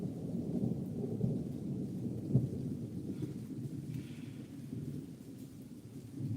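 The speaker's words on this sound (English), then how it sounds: "And the thunder rolls. The thunder rolls." Thunder rolling through a thunderstorm, a low, continuous rumble that swells and fades with a faint hiss of rain behind it, moderately loud and without voices.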